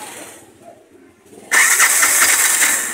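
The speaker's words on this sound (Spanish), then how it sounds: "Ahora vamos a ver si da arranque la moto." A Bajaj motorcycle with a shorted high-tension coil wire cranks quietly, then catches and bursts into a loud, steady running roar that holds close by before easing slightly, with a voice faintly heard early on.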